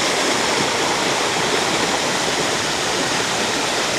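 A small waterfall feature in a quiet corner of a theme park pours steadily, giving a dense, unbroken rush of falling water at close range with no voices.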